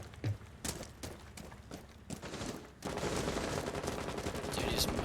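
Rapid gunfire bursts in a Rainbow Six Siege match, several sharp shot clusters in the first half giving way to denser sustained firing and game noise, with players talking over it.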